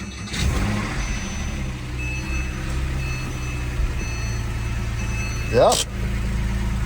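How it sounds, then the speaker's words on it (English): A high-mileage Porsche 997 911 with the 3.6 engine cranks and catches at once, then settles into a steady, fairly quiet idle with a soft burble, close by, with a brief word spoken over it. "Let's fire it up and see what she sounds like."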